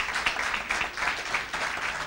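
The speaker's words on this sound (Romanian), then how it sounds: "Aplauze pentru" A television studio audience at a party-music show applauds a singer in a short, steady, moderately loud burst of clapping.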